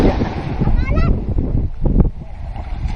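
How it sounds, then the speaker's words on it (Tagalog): Sea wind on the beach at Pagudpud blows hard against the microphone, a loud continuous rumbling roar with voices talking over it. "Yung hangin naman ito."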